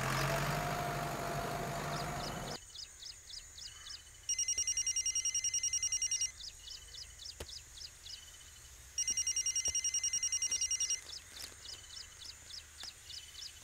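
A telephone rings in repeated electronic trills, clear and fairly loud, with short pauses between bursts, after a brief stretch of louder noise at the start; no one speaks.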